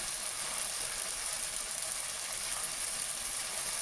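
Onion, tomato and curry leaves sautéed for Malabari chicken biriyani sizzle in hot oil with biriyani masala, a steady close-up frying hiss with no talking.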